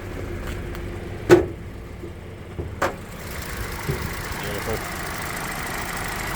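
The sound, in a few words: 2021 Toyota Corolla 2-litre engine idling with bonnet open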